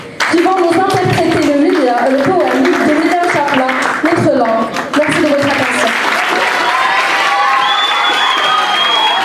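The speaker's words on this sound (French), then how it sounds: "veuillez applaudir chaleureusement Khadija Abou Nasser et Ala Abed" A school assembly audience cheers and claps loudly for two performers at a language day celebration, with sharp claps over excited voices and children shouting, the clapping thinning as a voice speaks over it.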